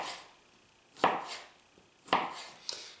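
A knife slices frozen bacon into crosswise pieces about a quarter inch thick, with three distinct crisp cuts spaced roughly a second apart against a quiet kitchen background.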